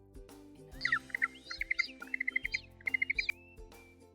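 A bird chirps in short, bright bursts of quick repeated tweets, several rapid runs of notes close and clear, with a steady low hum beneath, used as an example sound for a bird in a children's animal-names reading lesson.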